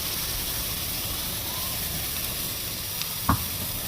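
Onion, tomato and ginger-garlic paste sautéing in a hot pan for street-style chole masala, a steady loud sizzle and hiss throughout, with a brief clink of a utensil near the end.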